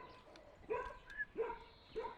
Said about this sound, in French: chien, il arrête pas de gueuler